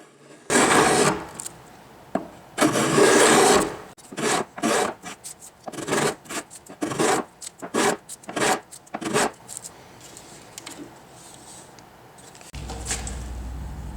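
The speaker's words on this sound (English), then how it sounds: "Using a spoke shave, I then start shaving down that stem and checking to make sure that that strip will lay flat against it." A spokeshave shaves down a wooden boat stem in bursts of dry rasping strokes, a few long pulls at first and then many quicker, shorter strokes, close and clear with no talking.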